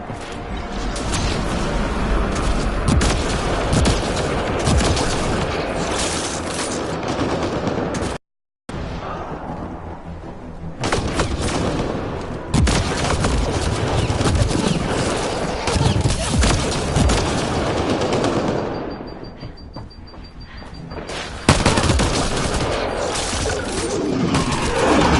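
Nearly continuous gunfire and explosions rumble through a firefight in the sci-fi shooter game Mass Effect Andromeda, loud and dense, with one brief dropout midway and no clear talk.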